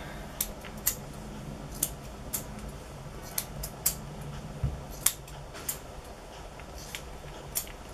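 Crisp, intermittent snips of thinning scissors cutting a Tibetan Terrier's coat, a dozen or so irregular cuts over quiet room background, close and sharp.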